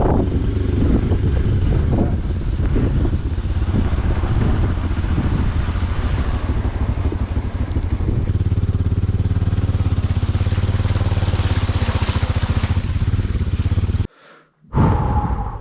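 Bajaj Pulsar NS200 motorcycle ridden steadily with a continuous engine drone and heavy wind buffeting on the microphone, cutting out abruptly near the end.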